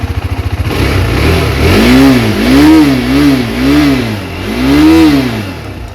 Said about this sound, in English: I love the sound of KTM RC390.